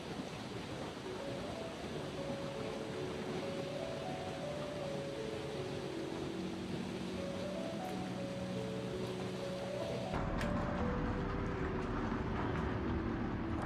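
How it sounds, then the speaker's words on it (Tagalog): A train rumbles past in Lauterbrunnen, Switzerland with a broad, steady roar, tonal hums shifting in pitch, then the noise grows heavier and closer. "may view ka ng mga tren na dumadaan, papuntang station"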